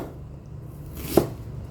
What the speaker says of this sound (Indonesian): Untuk bawang bombaynya kita akan rajang halus-halus.